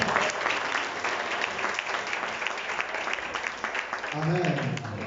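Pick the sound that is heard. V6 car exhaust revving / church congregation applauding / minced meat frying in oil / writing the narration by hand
church congregation applauding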